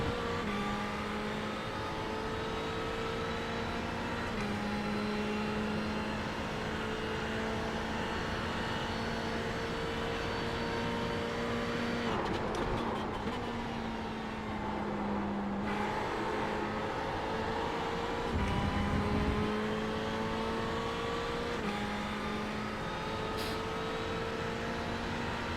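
A race car engine drones steadily in the iRacing sim, its pitch shifting as it climbs and drops through gears, with a brief break partway through and no talk.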